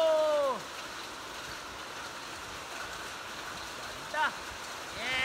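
Hail pours down in a steady, dense hiss like heavy rain during a hailstorm in Al Dayer, Saudi Arabia, with voices speaking briefly at the start and again near the end.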